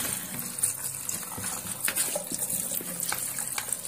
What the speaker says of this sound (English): So I'll pour it into a sieve.